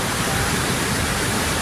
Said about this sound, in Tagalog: Nakikita nyo naman kung gaano kalakas. Diba? Yung agos niya mula doon.